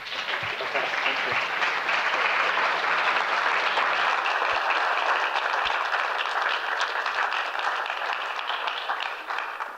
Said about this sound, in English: Please join me in welcoming David Lang